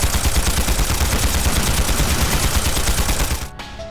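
Rapid, sustained automatic gunfire in Trails Through Daybreak hammers steadily and loudly for several seconds, then cuts off abruptly into a quieter tail.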